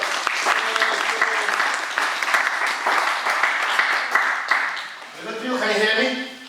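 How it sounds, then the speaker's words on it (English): An audience claps steadily through most of the stretch at a live show, fading near the end as a voice and a brief tonal sound take over. "Give a big round of applause."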